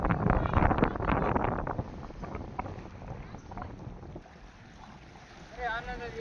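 Cold wind gusting at the seashore near the Bhavani temple at Mahuva, a loud rough rush against the microphone that eases toward the end, where a brief voice is heard.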